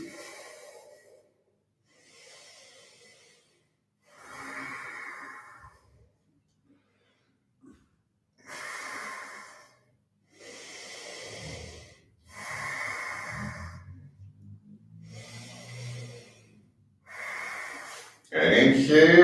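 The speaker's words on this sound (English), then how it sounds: "Keep breathing." Slow, audible breaths from a yoga session, each inhale and exhale coming in separate spaced bursts with quiet gaps between, with a louder gust at the end.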